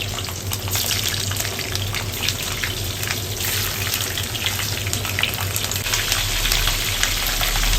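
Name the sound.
potatoes and peppers dropped into a frying pan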